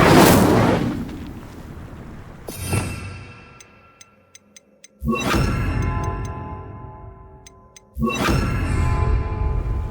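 A fire spell cast in the video game Hogwarts Legacy: loud whooshing bursts of flame that flare and fade, repeating three times, with small bright chimes ringing between them.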